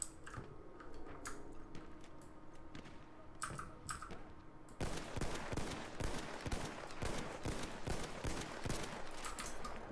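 Covering fire from a weapon in the video game Battlefield 1, with dense rapid shots in bursts that get louder and more continuous in the second half, alongside scattered crackling impacts.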